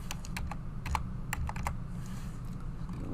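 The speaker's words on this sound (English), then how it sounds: "I'm just hitting my arrow key on my keyboard." Arrow keys on a computer keyboard being pressed while drafting in Revit, a quick irregular run of sharp, close clicks over a steady low hum, with a few bunched taps and short pauses.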